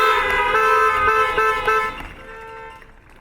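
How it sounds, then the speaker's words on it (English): Car horns honk together at a commencement ceremony, a loud sustained chorus of overlapping tones with a few sharp toots that thins and fades toward the end. "Now we can honk."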